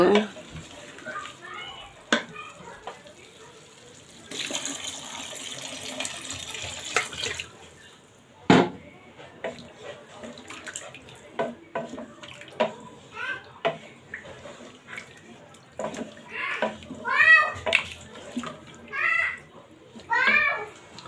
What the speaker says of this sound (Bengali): এখন আমি ঝোলের জন্য পানি দিয়ে দিব।